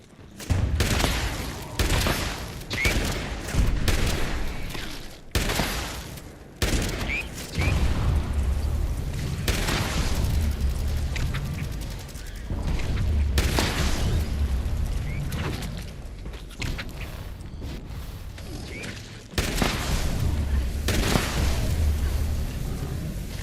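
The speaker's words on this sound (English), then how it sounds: "I'm just going around shooting up the place." Gunfire from the video game Fallout 76: bursts of rapid shots and heavy booms coming in waves, loud and close, with brief gaps between volleys and occasional voices.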